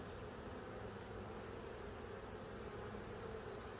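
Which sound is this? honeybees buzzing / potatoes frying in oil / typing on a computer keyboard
honeybees buzzing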